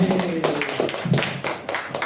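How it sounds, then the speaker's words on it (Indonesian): Clapping from an elementary school audience welcoming a poetry reader, a short burst of brisk close claps with voices mixed in. "Beri tepuk tangan"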